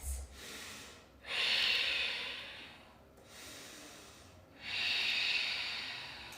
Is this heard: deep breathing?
yes